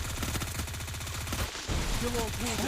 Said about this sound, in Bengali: দেখো দুটারে হেডশট মেরে দিই কীভাবে